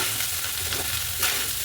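Pre-cooked rice for veg fried rice stir-fried in hot oil, a steady close sizzle with continuous scraping and tossing, holding at an even level with a slight swell near the end; no voices.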